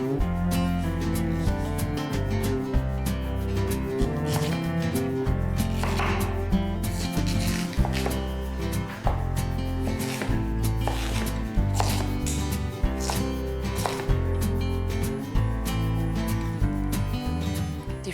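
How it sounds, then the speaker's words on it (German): A knife chops kohlrabi into coarse cubes on a board, with repeated close, crisp thuds in an irregular steady rhythm under background music. "Dann schneiden wir das Ganze in grobe Würfel, so in dieser Größe, das reicht."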